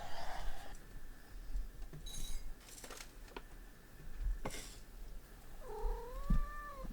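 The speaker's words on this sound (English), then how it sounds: "I've got to feed these cats or they'll kill me in my sleep" Cats waiting to be fed cry and yowl in a few drawn-out calls, one rising near the end, over a faint steady background hum in a rural Vermont home.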